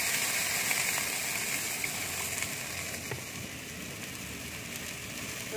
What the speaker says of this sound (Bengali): কড়াইয়ে আমি পরিমাণ মতো জল দিয়ে দেবো।